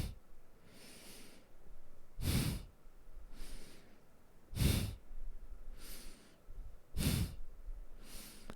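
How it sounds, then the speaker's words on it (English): Forceful rhythmic nasal breaths during Kundalini yoga practice, a loud sharp exhale or snort-like burst roughly every two and a half seconds, with softer inhales between, close and alone with no talk. "Powerful breaths through your nose."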